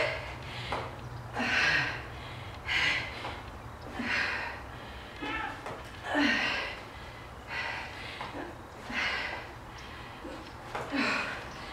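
Heavy, rhythmic panting after a workout exercise, repeated loud exhales and gasping breaths close to the microphone, with no speech.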